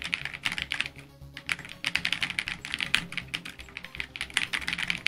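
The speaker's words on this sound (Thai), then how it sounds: "มั่วคีย์บอร์ดไปนะครับ" Rapid, irregular computer keyboard typing during a hacking game, dense clattering keystrokes with a brief pause near the start, close and steady with no voices.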